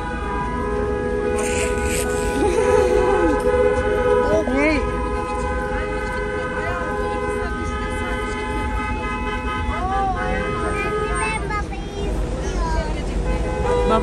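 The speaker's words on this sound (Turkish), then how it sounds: "Millet kornaya basınca biraz ilerlettiler sanki." Car horns honk repeatedly in a stalled traffic queue at the Kapıkule border crossing into Bulgaria, short toots and longer blasts sounding near and far over idling traffic while people talk inside a car.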